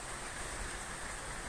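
Steady rain falls during a thunderstorm over a vegetable garden, a dense, even hiss that holds at the same level throughout the short stretch, with no voices.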